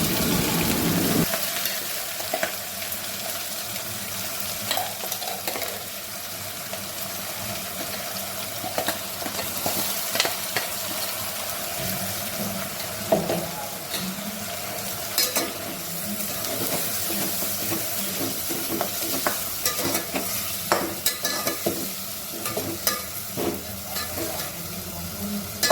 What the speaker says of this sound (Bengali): গোটা মশলাটা ভাজা হয়ে গেছে, এবার দিয়ে দিলাম কাঁচা লঙ্কা আর পেঁয়াজের পেস্ট